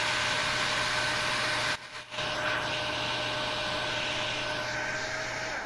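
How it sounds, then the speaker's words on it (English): A hairdryer in the VRChat video game blows with a loud, steady airy whoosh held close, briefly cutting out for a moment before resuming at the same even roar. "Look, a hairdryer."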